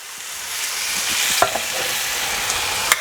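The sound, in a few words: stock poured into pan of browned lamb shanks, sizzling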